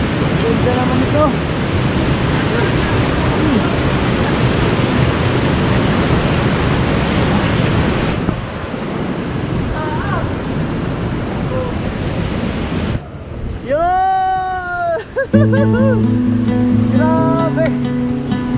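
A high waterfall in Catanduanes roars loud and close with a steady broadband rush, fading lower partway through before a burst of whistling or birdlike tones and a voice take over.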